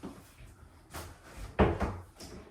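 A deep built-in drawer in a tiny house chest of drawers slides open on full-extension runners, giving a few close knocks and one sharper thump.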